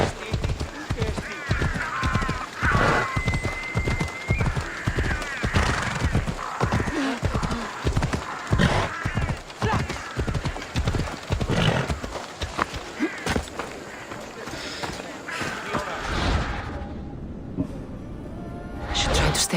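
Horse in the game Assassin's Creed Odyssey gallops with fast rhythmic hoofbeats and loud neighs close by, while voices speak over it before the hooves fade.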